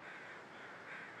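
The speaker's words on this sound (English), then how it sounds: "Just crows?" Crows caw in the distance in the video game The Long Dark over a steady ambient hiss, a couple of hoarse calls drifting through the background.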